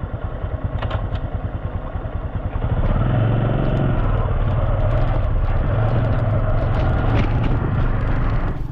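A Honda XRM 125 Fi motorcycle idles with a steady low thump, then its engine rises and stays loud as it pulls away onto a rough road, close to the microphone, with light clatter over it.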